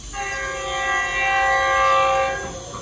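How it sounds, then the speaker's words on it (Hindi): A train passes by with its horn sounding steadily for nearly three seconds, loud and sustained, rising slightly in the middle before fading. "रेलगाड़ी आ गई है,"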